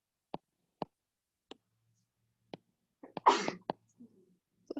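A single sneeze bursts out in a quiet lecture room, loud and close, surrounded by a few sharp clicks and taps before and after it.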